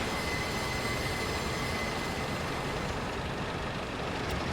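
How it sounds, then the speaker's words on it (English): A locomotive-hauled passenger train on the Liverpool to Manchester route in Train Simulator 2021 gives a steady, loud rolling rumble with faint wheel squeal, continuous throughout with no voices. "Train pulled by a loco."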